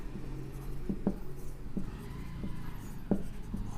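A pen scratches steadily on paper while a math problem is worked out by hand, with soft irregular strokes and a few sharper taps close by, heard alone against a low background hum.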